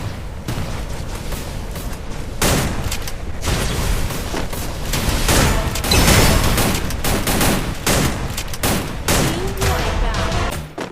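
Dense gunfire from a competitive battle royale video game match, with rapid overlapping bursts and sharp single shots cracking close and loud throughout.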